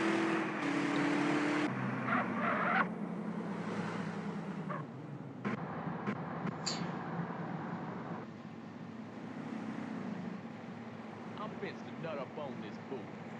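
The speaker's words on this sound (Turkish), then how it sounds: "Bir araba sürüyorum" A car driven in the video game GTA San Andreas Mobile, with a steady engine and road rumble under continuous talk, plus shifting wind-like noise and a few short bumps.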